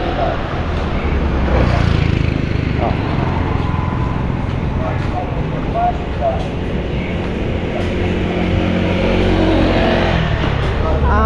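A rented motorbike rides through Siargao at night, its engine hum and road rumble continuous and close, with passing traffic and occasional background voices.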